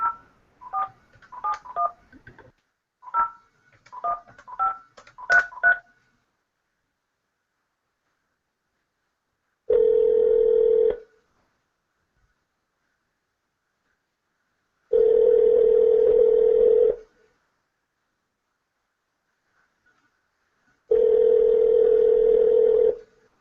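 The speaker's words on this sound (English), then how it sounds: "So, Patricia, I'm going to call you first, and then we'll three-way those people on." A telephone keypad dials a quick run of DTMF touch-tones during a three-way conference call setup, followed by three long, steady dial-tone bursts separated by silence, loud and close with no talking.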